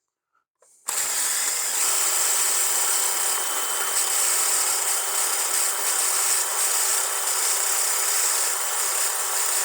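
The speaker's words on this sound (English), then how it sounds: "We're just going to use a little Dremel sanding attachment and just give it a little remount." A Dremel rotary tool with a sanding attachment whirs continuously at a high pitch, cleaning a rusty sensor mount on a Renault Trafic hub; it starts abruptly after a brief quiet moment and runs steadily, close and alone.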